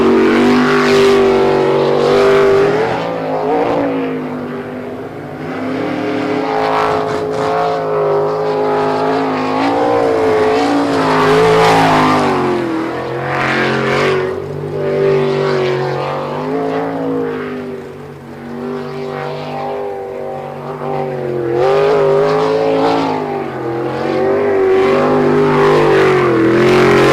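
A STIHL pro racing boat, the number 33 bootlegger, roars loud and continuous through a fast qualifying run at Lewiston, Idaho, its engine note rising and shifting in pitch over nearly half a minute with no talk.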